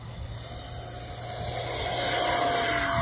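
An FMS 64mm F-16 Fighting Falcon RC jet's electric ducted fan spools up into a steady, rising high whine as it takes off on its maiden flight, nearby and loud outdoors.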